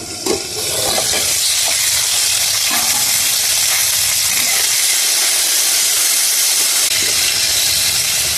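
Okra (bhindi) for bhindi posto frying in a pan just after the lid comes off, a loud, steady sizzle and hiss of oil and steam with occasional stirring clicks, no talking.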